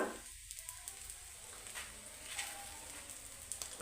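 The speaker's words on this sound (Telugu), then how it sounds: "ఇప్పుడైతే పరోటా అయితే వేసుకుందాం మనము కొంచెం ఆయిల్ అయితే వేసుకుందాం ఇప్పుడు పరోటా మీద" Paratha frying in oil on a hot pan, giving a steady, faint sizzle that stays fairly even throughout, with a few small crackles rising in the middle and toward the end.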